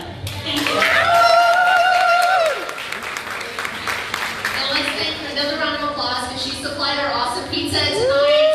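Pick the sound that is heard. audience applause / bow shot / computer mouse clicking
audience applause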